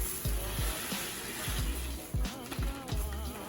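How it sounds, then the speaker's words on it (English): Dry oats and Rice Krispies poured from a bag into a bowl, a steady rattling rush of grains broken by a series of soft thumps and rustles, close by and moderately loud. "we're going to take our bag of our oats and our Rice Krispies and we're just going to pour it on in"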